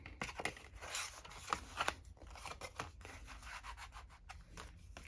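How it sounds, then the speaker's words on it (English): A gift card slides into a handmade paper Merry & Bright gift card holder, giving close, dry papery rubbing and scraping with short crisp bursts, no talk. "Here's my gift card. I'm going to slide that right in."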